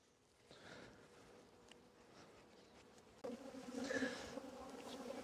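Honeybees buzz steadily around an opened hive during a demaree split, a soft continuous drone that swells louder and busier toward the end as the colony is disturbed.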